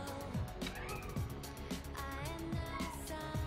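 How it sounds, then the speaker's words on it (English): A kitten meows and cries repeatedly in short, rising calls, fairly close, over a constant background of music or game sounds. "that's the sound of my crying kitten in the background."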